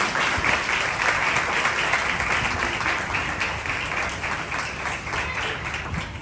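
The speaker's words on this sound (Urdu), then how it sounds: "تو آئیے ساری چرچ کمیٹی کے لیے زوردار تالیاں۔" Steady, dense applause from a sizable church audience, many hands clapping continuously at an even level throughout without voices rising above it.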